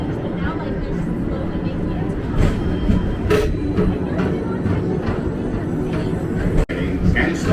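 The Tomorrowland Transit Authority PeopleMover glides along its track at Walt Disney World's Magic Kingdom, giving a steady rolling rumble with soft clicks and thumps while people chatter nearby.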